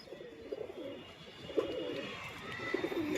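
Soft, low cooing from Teddy-breed pet pigeons kept in a loft, several gentle rolling coos repeating through a steady background hiss, fairly close, no talk.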